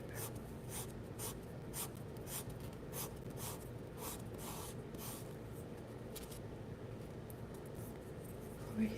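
A paper blending stick is rubbed clean against sandpaper in a quiet close-miked setting, a steady dense scratchy rasping that continues without pause.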